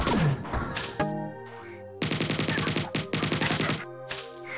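Pistol gunfire in a video game: loud, dense bursts of rapid shots in clusters, set against a sustained musical drone, with no talking over them.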